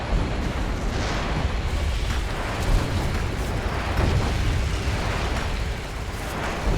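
A rocket explosion in the action video game Stranglehold: a loud, sustained roaring blast with crackling debris and rumbling bursts that fills the whole stretch without pause.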